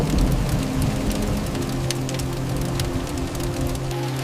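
Cartoon rain falling steadily, a dense close patter on surfaces with a continuous low rumble underneath, loud and unbroken with no voices.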